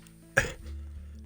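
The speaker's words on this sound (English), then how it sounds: "kind of a coughing fit going on" One short, sharp cough sounds close by against near silence, followed by a faint low rumble.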